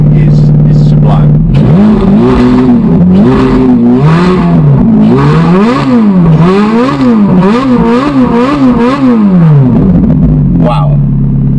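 A Ferrari Novitec Rosso supercar engine revs hard and loud, climbing and falling in repeated sweeping pulls with a rough rumbling tone up close, with voices faintly under it.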